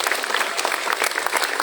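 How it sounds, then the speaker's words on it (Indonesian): Applause at the opening ceremony of a school class meeting, a dense burst of many hands clapping together, steady and close, with no voices over it. "Kasih tepuk tangan juga untuk Pak Iskandar."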